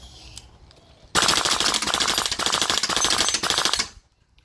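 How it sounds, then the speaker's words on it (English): An airsoft T8 gun on an HPA adapter firing full auto, one loud, dense burst of rapid shots lasting about three seconds, close by. The burst starts abruptly and cuts off, with faint handling noise before it. "this is gonna be full auto on the T8"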